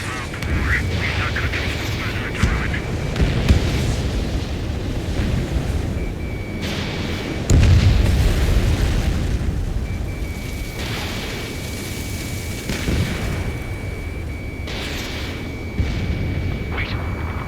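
Missile explosions in the Ace Combat 7 flight game, heard as rumbling booms under continuous jet engine roar, with one heavier blast midway and short warning tones sounding through.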